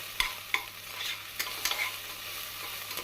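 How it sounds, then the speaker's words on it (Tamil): Ginger garlic paste sautéing in a pan for vegetable biryani: a soft, steady sizzle with a few sharp scrapes and taps of a spoon stirring against the pan, quiet and close, with no talking. "இஞ்சி பூண்டு விழுது போட்டு 1 நிமிடம் வதங்கவும்"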